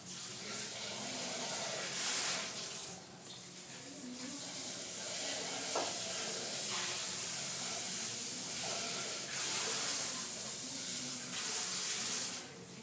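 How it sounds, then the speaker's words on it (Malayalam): Spoonfuls of laddu (boondi) batter dropped into hot oil give a steady close hiss and sizzle that runs throughout, with a few brief clatters from the pan. "എണ്ണ ചൂടാകുമ്പോൾ ഷേപ്പൊന്നും ചെയ്യാതെ ഇങ്ങനെ ഇട്ട് കൊടുക്കാം"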